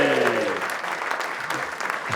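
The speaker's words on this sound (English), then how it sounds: "Can we get a big cheer for Justin Harrison?" Studio audience cheering and clapping for a guest introduced on a British and Irish Lions rugby preview show, a dense steady wash of applause with a voice briefly audible at the start.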